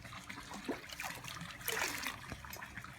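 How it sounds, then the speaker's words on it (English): Water trickles and splashes into a metal bowl, a soft uneven pour with faint gurgles, close by and fairly quiet. "Now I'm going to fill it with water."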